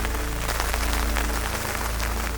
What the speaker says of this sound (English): It doesn't stop raining.